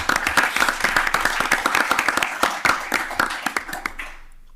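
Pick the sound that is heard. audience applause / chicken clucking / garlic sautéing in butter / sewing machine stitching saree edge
audience applause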